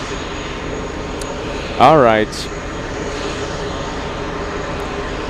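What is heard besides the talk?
aircraft auxiliary power unit (APU) running loudly at JFK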